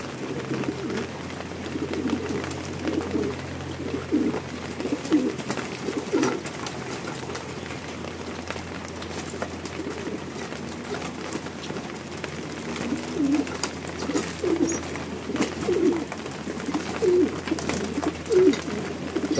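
Pigeons or doves coo repeatedly at close range among other birds, a steady low murmur of soft calls running throughout with no talking.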